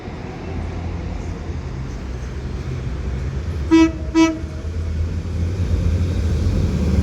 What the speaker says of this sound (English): as this 195 departs Bradford Interchange now for York